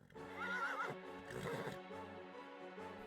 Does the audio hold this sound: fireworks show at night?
no